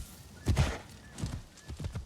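Horse hooves clip-clopping with a whinny in the Assassin's Creed Shadows video game, a few close, uneven hoof thuds and snorting bursts over quiet game ambience.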